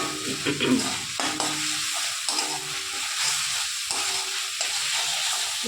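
Food sautés in a frying pan after a splash of water, a steady close sizzle and hiss broken by repeated scraping strokes of a spoon stirring the pan, with no voices.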